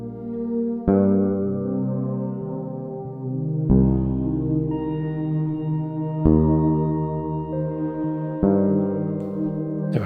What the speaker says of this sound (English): Let's add a little bit more reverb to that.